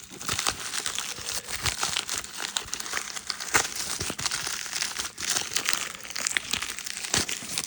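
Plastic trading card pack wrappers being cut open and handled, a close, steady run of crinkling and crackling with sharp snips and rustles throughout, no voices.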